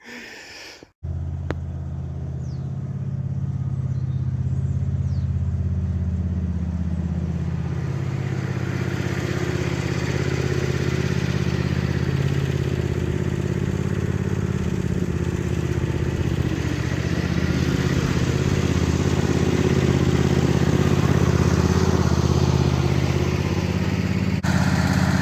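A small red tractor engine, unused for a long time, starts after a brief click and then runs at a steady, low, throbbing idle with rattly clatter, close by and continuous for the rest of the clip.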